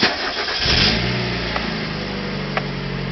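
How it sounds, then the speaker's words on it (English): A car engine cranks and catches, then settles into a steady idle hum, with a couple of faint clicks later on. "So I'm gonna start the car and see if we got lights."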